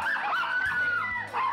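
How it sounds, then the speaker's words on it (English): Maltese dog giving a short whining, yipping vocalization indoors, one drawn-out high cry lasting about a second, close and clear. "They'll still bark a little bit when the doorbell rings."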